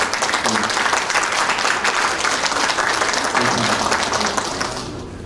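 Big round of applause from a Korean event audience honoring former five-term lawmaker Kim Young-jin, thick continuous clapping from many hands that tapers off in the final second.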